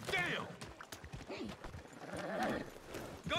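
A horse in the video game Red Dead Redemption 2 clatters along with quick clip-clopping hooves and lets out a brief whinny, loud and close, over a steady background of game sound.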